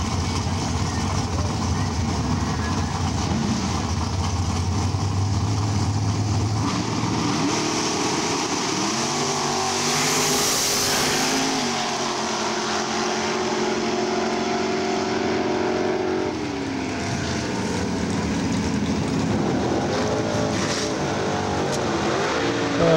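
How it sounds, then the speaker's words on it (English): A 1975 Chevrolet Monza drag car racing down a drag strip, its engine roaring loud and continuous with a rising, shifting drone throughout, while other engine noise and a faint voice mix in the background. "Two of my first drag races."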